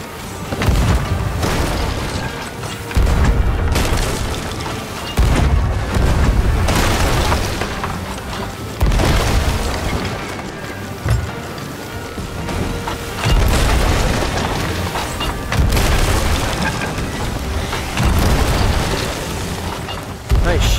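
Cannon fire and explosions during a ship battle in Sea of Thieves, heavy booms repeating every few seconds over a constant roar of water and wind, with a voice talking now and then.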